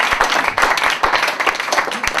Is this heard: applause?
yes